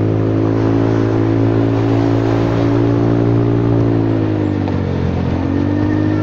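Honda Forza 300 scooter at high revs while riding, a loud, continuous engine drone with steady harmonics and strong wind rush, close up.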